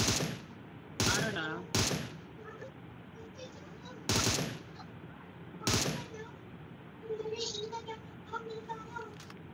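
Gunfire in PUBG: several loud, sharp shots and short bursts spaced a second or two apart, with softer game sounds and faint voices in between.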